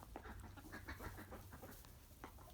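Farm chickens cluck and murmur softly at a moderate distance, a continuous low stream of short clucks over steady outdoor background noise.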